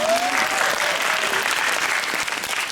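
Dense, steady applause from a film event audience rolls on continuously, loud and close, with a voice faintly audible at the start.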